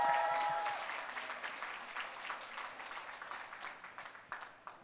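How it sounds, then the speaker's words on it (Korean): Seminar audience at a success academy event in Los Angeles applauding, a steady wash of many hands clapping that slowly fades toward the end, with brief voices early on. "And all of you who have applauded just now, you will all become imperial masters."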